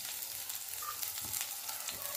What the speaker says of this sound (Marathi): तेल गरम झालेलं आहे, एकदम बारीक कट करून घेतलेला लसण टाकून घेऊया।